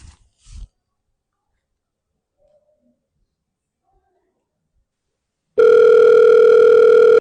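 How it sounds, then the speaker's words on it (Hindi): A phone call ringing through on the line: a loud, steady electronic ringback tone starts after a few seconds of near silence, following a couple of short voice sounds at the start. "घंटी तो जा रही है।"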